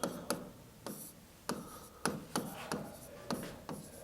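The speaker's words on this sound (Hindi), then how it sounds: "देखिए मैं एक बार लिख रहा हूं" Chalk or marker writing on a classroom board during a coding-decoding reasoning lesson: a series of sharp tapping strokes and short scratchy rubs, close and clear, with no voice over them.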